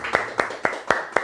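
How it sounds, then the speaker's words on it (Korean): A church congregation claps to welcome a new member, five crisp, evenly spaced claps landing in a steady rhythm, close and fairly loud. "여러분 박수 한번 쳐주시죠."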